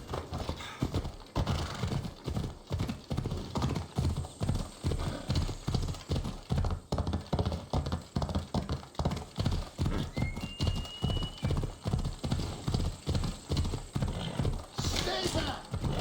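Horse galloping in Assassin's Creed Odyssey, a steady, rapid clip-clop of hooves running throughout, with a brief whinny near the end.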